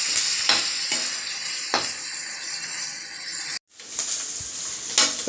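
Onions and curry leaves frying in a pan for chicken gravy, a continuous hiss of sizzling oil with occasional stirring knocks, close by, briefly cut to silence before resuming.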